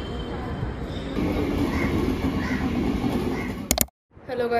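Steady rumbling clatter of a Mumbai local train in motion, loud and continuous, with faint bird calls above, ending in a sharp burst and brief silence.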